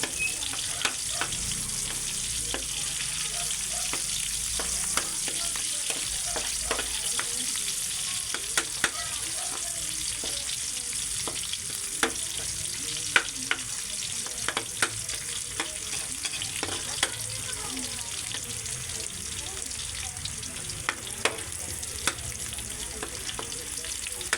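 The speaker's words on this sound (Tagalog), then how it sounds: "naigisa na natin ang bawang at sibuyas." Garlic and onion sauté in a pan for a Filipino pansit bihon, a steady close sizzle with frequent sharp crackles and the scrape of stirring throughout, no voices over it.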